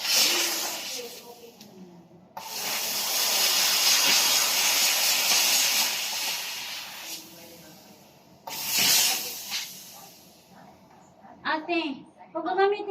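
A handheld steam cleaner blasting steam in long loud hissing bursts with short pauses between them, and someone talking at the start and end.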